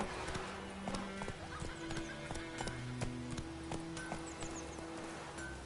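A horse gallops in The Witcher 3 video game, with quick rhythmic hoofbeats and a clear neigh over background music and tones, moderately loud and close, without speech.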